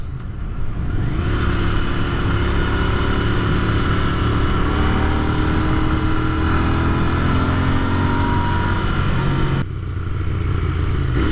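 A Royal Enfield INT 650 motorcycle engine with stock exhaust runs steadily at moderate revs, a continuous mellow drone with no voices, the pitch shifting slightly as it rolls along.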